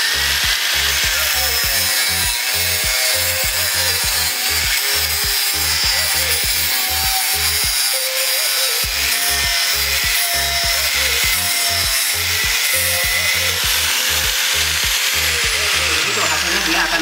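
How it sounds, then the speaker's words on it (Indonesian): An angle grinder cuts a workpiece under heavy pressure, kicking back against the cut: a loud, continuous grinding and rasping with a steady rhythmic chop, one brief dip near the middle, running close up throughout. "kalau kita tekan seperti apa gerinda ini akan bereaksi"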